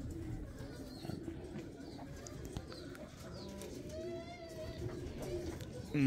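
A pigeon coos softly at mid-distance amid a busy outdoor pigeon-keeping gathering, with a steady rumble of background noise and people talking nearby.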